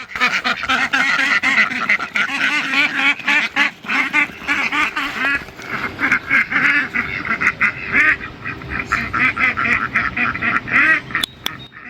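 A flock of ducks quacks loudly and continuously, many overlapping calls close by, with a few goose-like honks mixed in.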